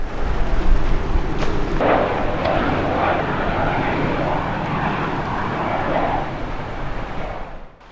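Boeing P-8 Poseidon maritime patrol jet at the Bangalore air show in 2015, a loud, steady, broad engine roar held close for several seconds before it briefly tails off at the end.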